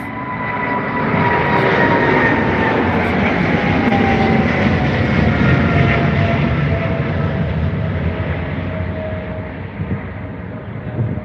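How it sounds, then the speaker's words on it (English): British Airways Boeing Dreamliner departing Heathrow: a loud, steady jet engine roar that fills the whole stretch, broad and rumbling, easing slightly toward the end with no talking. "We have a Boeing Dreamliner, which is a BA. Of course, it's BA. It's going."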